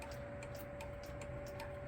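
A time-only cuckoo clock ticks steadily in a quiet room, each soft, crisp tick evenly spaced over a faint constant hum.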